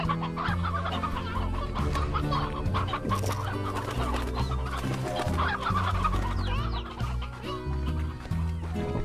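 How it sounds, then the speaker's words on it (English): Briar hens in the Slime Rancher video game cluck steadily over a continuous backdrop of game music and ambience, with repeated short calls running through the whole stretch at moderate loudness. "Some briar hens will help."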